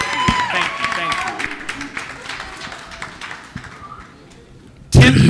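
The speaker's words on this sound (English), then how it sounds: "One more round of applause for Michael" A school assembly audience applauds a motivational speaker: scattered clapping and crowd noise with voices mixed in, tapering off before a sudden loud burst at the very end.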